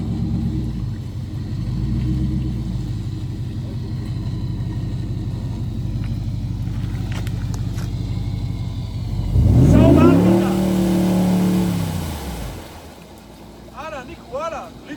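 An off-road car on the Khashmi–Gombori mountain track with a rumbling engine under load, then a loud surge of revving that rises and falls, with voices partly audible.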